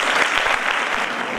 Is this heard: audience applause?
yes